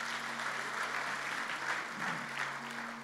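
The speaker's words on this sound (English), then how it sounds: "clap your hand for the Lord." A church congregation claps hands together during a Sunday morning worship service, producing dense, steady applause that fills the room for the whole stretch with no pause.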